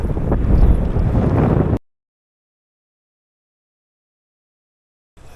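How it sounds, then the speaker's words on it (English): Wind buffets the microphone of a DJI Osmo Action 3 action camera outdoors, making a loud, low rumbling roar for about two seconds before it cuts off abruptly into silence. "The wind is kicking."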